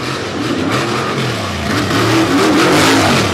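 A black and green Ford Raptor race truck at a tough truck racing event in Brookville, Pennsylvania revs hard, its loud engine rising in pitch in a close, continuous roar.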